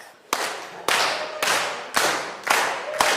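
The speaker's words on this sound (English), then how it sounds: "you can clap to the music" An audience clapping along in time to music at a youth Sunday church dance: six sharp, evenly spaced claps about half a second apart over a bright, steady music bed, fairly close and loud.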